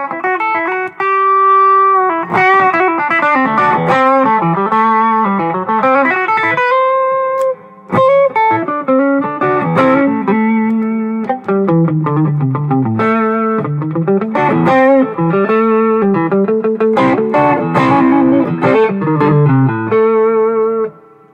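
Electric guitar played through a Nordvang Custom Gravity overdrive pedal in germanium mode, with a bluesy melodic lead line of sustained bent notes and quick runs, saturated and compressed, loud and alone with brief pauses.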